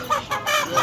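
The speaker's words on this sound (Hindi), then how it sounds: "ये सील मुर्गी है जी, फाइटर मुर्गी है।" Fighter hens and other chickens cluck in a busy Faisalabad bird market, a loud, close run of choppy clucks over steady crowd and market bustle.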